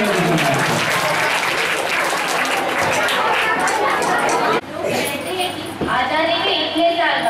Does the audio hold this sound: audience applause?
yes